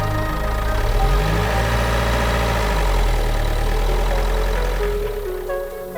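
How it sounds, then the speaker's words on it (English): Incident response van engine in a video game, a loud steady low rumble with a rough, knocking idle quality as it drives off-road, close and continuous, no voices. "The Plums head off-road in their incident response van"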